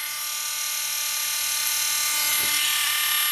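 Small rotary tool grinding the burrs off the ends of a Matchbox Mustang toy car's axles, a steady high-pitched whine held close for a few seconds, no talk.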